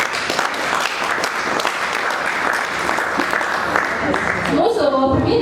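An audience at a tech conference claps steadily to honor a sponsor, a thick, even wash of applause that continues until a voice starts speaking near the end.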